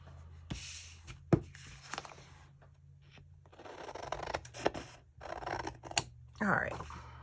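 A few sharp snips of scissors cutting paper, brief and close, separated by soft rustling and handling noises.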